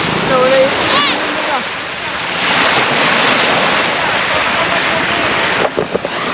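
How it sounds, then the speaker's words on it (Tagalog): Sea waves wash steadily at a hot public beach in Daanbantayan, Cebu, a broad continuous surf roar with wind buffeting the microphone; a brief whoop and short voices come early, then handling bumps near the end. "nandito na tayo sa dagat"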